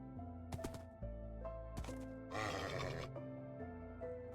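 A horse in Minecraft whinnies in a few short, high neighs while it is being tamed, close and clear over a soft, steady tonal game background.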